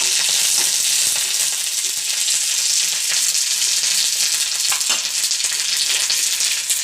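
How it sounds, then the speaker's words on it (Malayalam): Shallots and curry leaves sauté in hot oil in a pan, producing a loud, dense, continuous sizzle with crackling pops and occasional stirring noises throughout. "കൊച്ചുള്ളി, ഇതെല്ലാം ഒന്ന് മൂക്കട്ട് കൊടുക്കണം."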